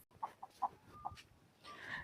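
Several short hen clucks in a loose, uneven rhythm, close by, with a brighter squawk near the end; no talking.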